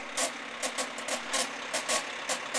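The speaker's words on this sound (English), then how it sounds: "the noise that you hear is like underneath the engine" Rhythmic scraping and rattling bursts come from beneath an idling bus engine after the bus sideswiped a car, repeating roughly every few tenths of a second over a low, steady engine drone at moderate distance.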